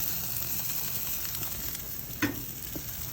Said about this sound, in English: Sizzling on pretty good.